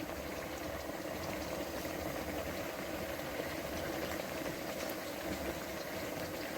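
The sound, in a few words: beef being sautéed (bhuna) in a pot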